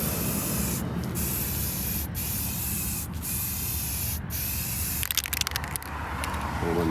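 Spray paint can hissing steadily through a nozzle that is starting to clog, sputtering and crackling near the end, sprayed close up while making a wall-mounted green screen.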